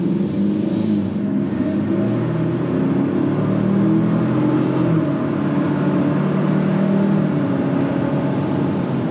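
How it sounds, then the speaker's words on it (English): A 2024 Ford Ranger Lariat pulls away gently at low RPM, heard from inside as a steady, low, smooth engine drone with road hum and no clear rise in pitch. "you just barely hit the accelerator and you just hold it there and it accelerates almost as fast"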